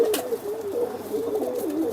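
Pigeons coo in a steady, low, warbling series close by, overlapping calls running continuously through the moment without talk.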